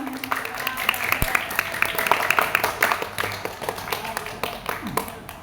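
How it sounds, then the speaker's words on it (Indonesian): An audience at a school poetry recitation claps in uneven, scattered bursts, fairly quiet, with voices in the background. "Sekali lagi tepuk tangan dong."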